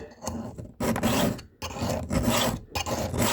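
A file rasps across a chainsaw chain's cutters during sharpening, in steady repeated strokes with brief pauses between passes, close up and fairly loud with no talking.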